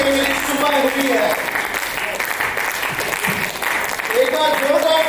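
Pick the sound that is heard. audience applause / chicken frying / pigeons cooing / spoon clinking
audience applause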